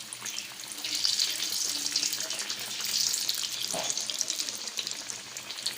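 Stuffed egg masal frying in oil until it puffs up like a bun, a continuous close sizzle that swells and fades in waves, with a brief scrape partway through.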